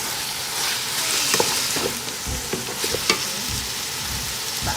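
Minced meat fries in caramelized sugar for Khmer kar mam, a loud continuous sizzle broken by frequent scraping and stirring knocks close up.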